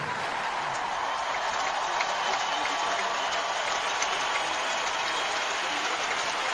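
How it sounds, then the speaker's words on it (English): Tennis crowd at the Australian Open applauding after Safin beats Federer, a steady dense wash of clapping that holds at an even level throughout, loud and continuous with no pauses. "Well, they haven't stopped clapping"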